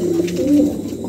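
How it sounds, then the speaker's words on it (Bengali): A pair of pigeons coo close by, a soft low rolling coo rising and falling over about a second, heard alone. "মাশাআল্লাহ দেখার মতন একজোড়া কবুতর।"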